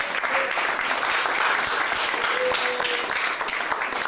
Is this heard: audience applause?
yes